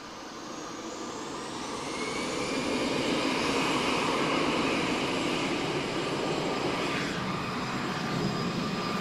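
An EasyJet Europe Airbus A320-214 in special Berlin livery departs Lisbon Airport, a broad, continuous jet roar swelling in the middle and easing off, heard alone from a distance.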